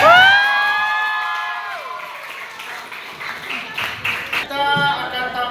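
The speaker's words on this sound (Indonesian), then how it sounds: "berikan aplaus" An audience of students at a school anti-drug performance breaks into applause and cheering after a loud voice, the clapping rising again with shouts near the end.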